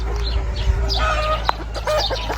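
Hens clucking and squawking close by in a pen, several overlapping calls over a low background hum.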